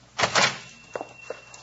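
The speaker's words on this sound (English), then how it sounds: "I'll open the door." A shop door opens with a loud wooden clunk and rattle of the latch, followed by a couple of softer knocks as it swings, close by and with no talk over it.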